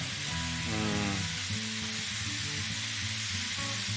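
Butterflied shrimp sizzle in a hot pan as shrimp scampi cooks, a steady, close frying hiss running throughout alongside low tonal kitchen hum, with no talk.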